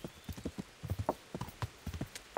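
Horse hooves clop at a steady riding pace in Kingdom Come: Deliverance, a close, rhythmic run of dull thuds with no talk over them.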